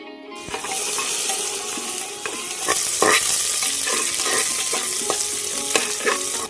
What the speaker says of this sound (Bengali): পেঁয়াজটা হালকা ব্রাউন কালার করে ভেজে নিয়েছি